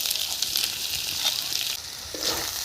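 Fish fat sizzles loudly and steadily in a pan of fried potatoes and browned onions, a close, continuous hiss with small crackles and a slight stir near the end.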